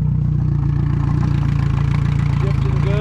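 A Yamaha 115hp outboard engine idles in gear during a water pump replacement, a steady close low rumble with a regular throbbing pulse and some clatter.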